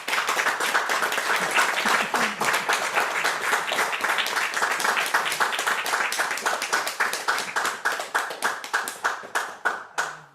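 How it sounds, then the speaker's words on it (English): A crowd applauds steadily after a Buddhist talk, dense clapping that thins into scattered individual claps before stopping. "So let's give a round of applause."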